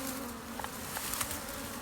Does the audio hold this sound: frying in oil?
no